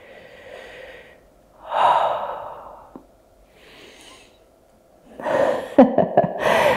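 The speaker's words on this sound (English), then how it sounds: "Nice deep breath." Deep breaths during a yoga exercise, with a long audible inhale and exhale followed by a short gasp and a few quick, close breathy puffs near the end.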